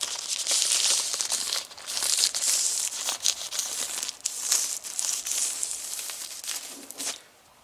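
Thin plastic sheeting crinkling and rustling close up as it is handled and taped around a truck's inner fender wheel well, continuous crackly bursts that ease off near the end.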